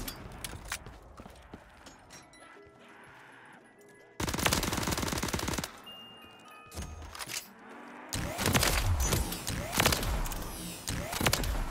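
Rapid bursts of video game gunfire, loud dense automatic rattles in two long stretches with scattered thumps and quieter game sounds between them.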